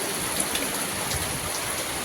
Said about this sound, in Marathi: सुंदर असा पाऊस लागलेलो असा गावाला